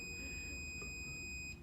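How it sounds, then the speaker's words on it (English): A small electronic project buzzer sounding a continuous high-pitched tone while its soil-moisture sensor is held out of water, steady and fairly quiet over a low background hum. "the buzzer beeps out now since it's in air."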